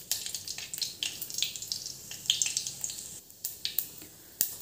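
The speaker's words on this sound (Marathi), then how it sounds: "तूप गरम झालं की त्यात जिरं घालायचं आहे" Cumin seeds crackle in hot ghee while making bajra soup, giving a steady close sizzle broken by sharp, irregular pops and snaps, with no talking.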